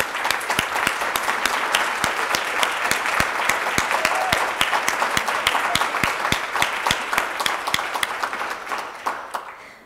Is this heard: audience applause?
yes